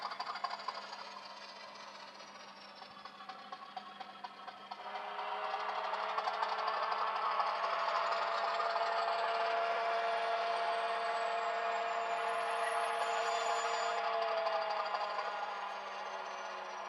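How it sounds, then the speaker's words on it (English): A Hornby TT:120 Class 50 model locomotive's sound unit plays a diesel engine that drops to a quieter idle, then a long, steady brake squeal rises over the engine as the loco comes to a stop. "as the loco comes to a stop, we get a nice timed brake squeal too"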